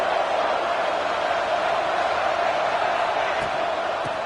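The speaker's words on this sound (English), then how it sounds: "Listen to the crowd energy here in the early going." A college football crowd in a stadium, Rutgers against Minnesota, makes a continuous dense roar of cheering that is steady and moderately loud throughout. No words can be made out.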